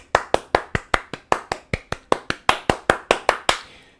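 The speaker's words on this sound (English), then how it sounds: "Can we get a round of applause for him?" Single pair of hands clapping close and steady, about twenty sharp claps in a fast even rhythm for an audience applauding a winner, the last clap ringing out.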